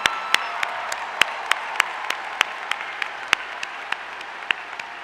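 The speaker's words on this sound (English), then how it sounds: "Let's give them a round of applause" An arena audience at the FIRST Championship welcome ceremony gives a sustained round of applause, dense steady clapping with sharp individual claps standing out near the microphone.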